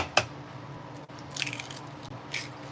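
Eggs cracked one at a time into a baking mix in a tiny New York City kitchen, a few sharp close cracks and soft squishy splats, sparse and quiet, with no talking.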